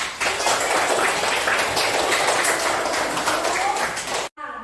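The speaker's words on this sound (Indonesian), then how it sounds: "Kita berikan tepuk tangan untuk kelompok." A classroom full of students applauds a student group after its presentation, dense steady clapping filling the room for about four seconds before stopping abruptly.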